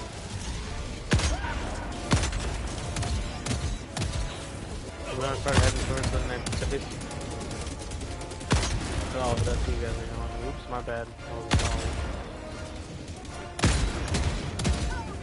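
Autocannon fire in Helldivers, heard as repeated heavy gunshots that boom out in spaced bursts among dense battle noise, with player voices talking over it.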